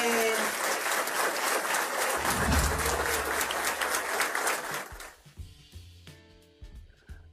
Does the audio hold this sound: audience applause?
yes